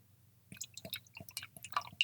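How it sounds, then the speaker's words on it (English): Founders Dankwood barrel-aged beer poured into a snifter glass, a quiet, close sequence of gurgles, splashes and drips over about two seconds. "I'm going to grab a snifter here and let's pour this beer"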